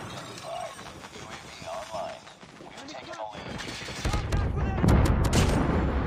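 JAK-12 shotgun fired in the mobile shooter COD Mobile: heavy gunshot blasts that cluster and grow louder toward the end, mixed with game noise and chatter.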